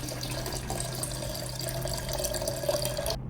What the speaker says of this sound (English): I'm going to weigh the first ingredient, which is my solvent, and that is deionized water.